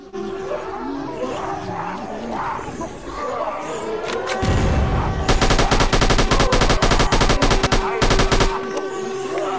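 Rapid bursts of automatic gunfire from an assault rifle in a shooting video game, heard as loud, dense rattling volleys in the second half after a rumbling, busier opening, close and overpowering with no clear speech.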